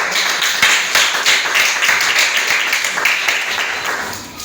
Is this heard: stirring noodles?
no